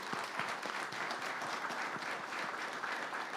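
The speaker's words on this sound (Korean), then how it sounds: "감사와 존경의 마음을 담아서 이 민족의 지도자들께 큰 박수를 보내주시기" Steady applause from the audience at a Korean Provisional Government founding commemoration ceremony, a dense unbroken patter of many hands clapping at moderate distance, sustained evenly with no voices over it.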